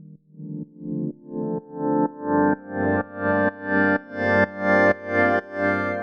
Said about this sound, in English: Now the percussive rhythms of the organ becomes more of a floaty pad texture as the white noise effect opens up.